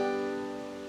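Clawhammer banjo strum in the bum-ditty pattern, a bright chord ringing and decaying quickly, played alone at close range.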